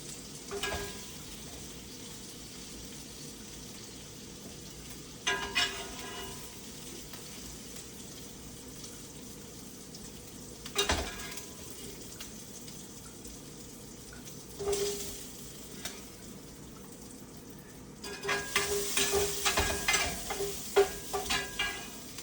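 Sausage sizzles steadily in a pan, close by, with a few louder bursts of spattering and clattering and a stretch of running tap water near the end, no voices.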